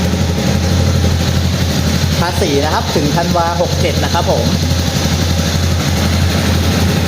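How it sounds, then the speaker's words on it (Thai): A 2019 Honda CB300R motorcycle idles with a steady, low, even engine hum that runs throughout, while someone speaks over it nearby. "เดี๋ยวลองฟังเสียงเครื่องนะครับ"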